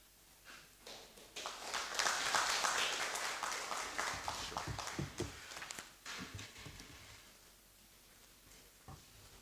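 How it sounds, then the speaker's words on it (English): Audience applause at a press briefing by a Nigerian sovereign investment authority chief, swelling into a burst of clapping, then thinning into scattered individual claps before fading out. "I think that deserves a round of applause."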